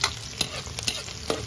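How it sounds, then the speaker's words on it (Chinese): Scallion, ginger, garlic and chili being stir-fried in a wok, with faint sizzling and quick scraping stir strokes at a steady rhythm, close and quiet. "葱姜蒜炒香，大椒给它掰碎，往里搁"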